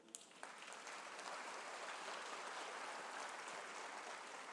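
A church congregation applauds, a faint, distant wash of steady clapping that swells quickly after a couple of sharp early claps and holds evenly throughout.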